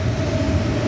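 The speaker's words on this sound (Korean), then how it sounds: "미랑역에서 마산 열차 기다립니다." A KTX high-speed train at Miryang station gives off a steady, heavy rumble with a faint sustained whine, close by and unbroken throughout.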